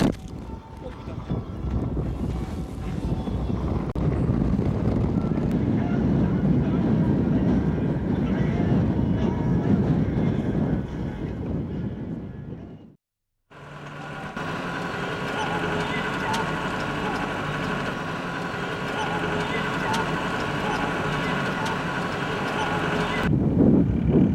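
Strong wind roars steadily against the microphone, dropping out briefly midway, then returning as a continuous buffeting rush with a droning engine beneath, on the approach into Xiushu, China.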